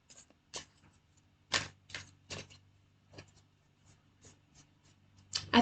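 Tarot cards being shuffled, a series of quiet papery riffles and taps in irregular bursts, close and soft with no talk.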